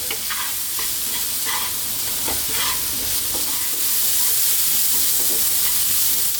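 Onions fry over medium heat in a pan with a continuous close sizzle while a utensil stirs and scrapes them in irregular bursts, no talking.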